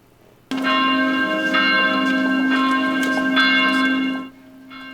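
A bell rings out loudly and steadily for about four seconds at a ceremony at Edmonton City Hall, its tone sustained and ringing before fading, with no voices.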